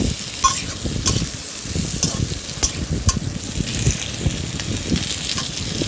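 Potatoes and pointed gourd with cumin and coriander powder sizzle in a pan while being stirred, steady close frying hiss broken by repeated scraping stirs, no one speaking.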